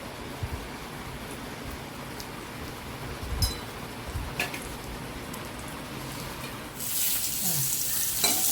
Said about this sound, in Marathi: तेल टाकलं का असं एक एक कारलं ठेवायचं